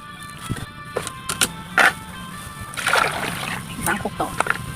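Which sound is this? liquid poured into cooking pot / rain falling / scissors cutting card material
liquid poured into cooking pot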